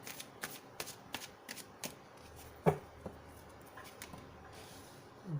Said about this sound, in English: you guys subscribe to my channel while I'm laying down your cards